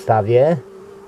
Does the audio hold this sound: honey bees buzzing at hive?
yes